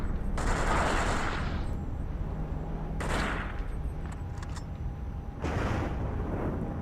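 Heavy AK rifle gunfire in the Cold Fear video game, a loud sustained burst followed by two more long bursts with short gaps between them, no talking.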